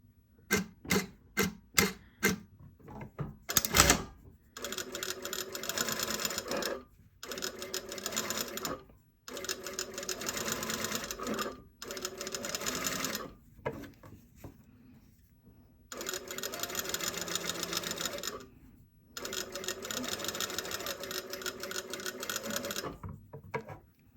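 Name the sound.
sewing machine understitching bias tape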